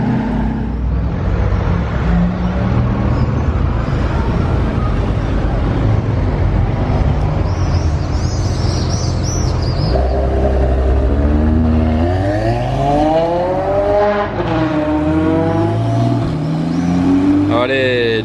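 A car engine revs loudly nearby as its exhaust valves open, a roaring, rising and falling exhaust note during carspotting, with a voice talking over it.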